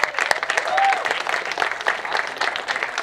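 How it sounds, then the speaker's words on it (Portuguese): A crowd at a freestyle MC rap battle cypher applauds in a brief burst of clapping and cheering, with some voices mixed in. "Uma salva de palmas aí,"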